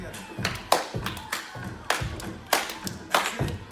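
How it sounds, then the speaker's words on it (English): A group clapping hands together in a steady rhythm, about two claps per second, fairly close, with a voice talking faintly underneath. "Now let's clap together."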